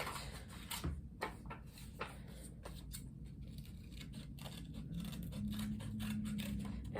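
Scissors cut a circle out of a sheet of paper, making soft, close snips and crisp paper rustles in an uneven rhythm, fairly faint against a steady room hum with a brief tone near the end.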